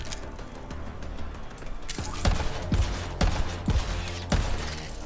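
Shotgun blasts in the video game Borderlands 3 ring out as a handful of loud, punchy shots spaced roughly half a second to a second apart over a busy background of game noise.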